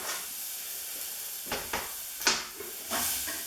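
Sliced pear dropped into a hot pan of toasted spices gives a steady, close sizzle and hiss, broken by a few sharp clatters from a utensil.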